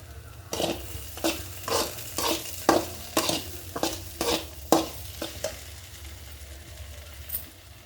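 Okra curry sizzles in a pan while a spoon scrapes and stirs it in a steady rhythm of about a dozen distinct strokes over a continuous frying hiss, close up with no talking.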